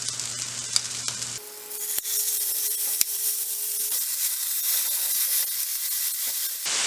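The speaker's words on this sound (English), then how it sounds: "Add your turkey and cook for 5 to 7 minutes." Ground turkey sizzling and frying in a hot pan, a loud steady hiss close up after it drops in, with a couple of sharp utensil knocks.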